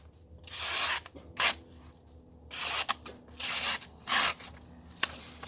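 A knife is drawn over a cheap sharpening stone in repeated gritty rasping strokes, roughly seven passes with short pauses between them, close and fairly clear.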